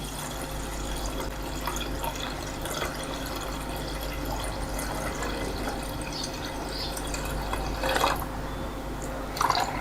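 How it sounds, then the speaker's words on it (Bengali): Distilled rainwater is poured into a container on a scale in a steady trickle, faint and close, with a few louder splashes near the end. "আমি সাতশো ষাট গ্রাম র ওয়াটার নেব এটা হচ্ছে ডিস্টিলেট ওয়াটার যেটা আমরা বৃষ্টির পানি ব্যবহার করছি"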